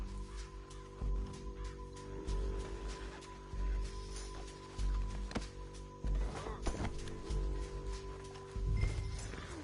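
Horses gallop in the video game Red Dead Redemption 2 during a canyon ride. Heavy hoofbeats thud in a steady repeating rhythm with occasional clatter and brief heavier knocks, moderately close, with little talk over them.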